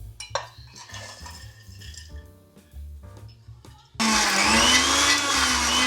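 Mixer grinder starts up loud and steady, grinding onion, ginger, green chillies, curry leaves, coriander and mint without water, a sustained whirring roar after a stretch of kitchen clinks and handling noises.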